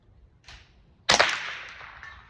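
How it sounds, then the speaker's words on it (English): A suppressed Ruger 10/22 rifle fires a single sharp shot outdoors at long-range targets beyond 100 yards, a sudden crack after a faint earlier rustle, trailing off into a short fading tail. "when you're shooting out farther, the bullet drops a little bit"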